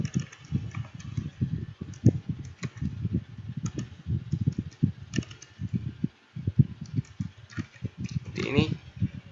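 Fast, soft typing on a computer keyboard while entering an Excel formula, a continuous patter of close key clicks under a person speaking.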